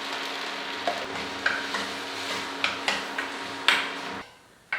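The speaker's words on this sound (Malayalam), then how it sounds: "അത് നല്ലോണം വഴറ്റിയെടുക്കുക" Onion, tomato and chilli powder sauté in a pan for a chutney, a steady close sizzle punctuated by several sharp spoon scrapes and taps, cutting off near the end; no voices.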